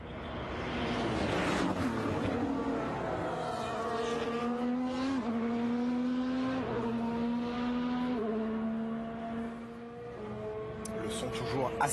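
Honda-powered Formula 1 cars run practice at the 2022 Bahrain Grand Prix, one engine climbing through a series of rising gear-change whines over about twelve seconds, fairly near, with commentary voices beneath.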